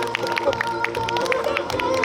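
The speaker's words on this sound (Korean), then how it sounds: "우리 이몽룡이 잘했다 박수!" Outdoor crowd at a comedy performance in Seoul Plaza claps and cheers for the performer playing Lee Mong-ryong, steady dense applause with scattered sharp claps throughout.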